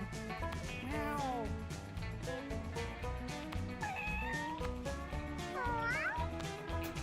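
Cartoonish cat meows and yowls from the video game Mewgenics come in rapid repeated calls with rising and falling pitch, loud and continuous over game music.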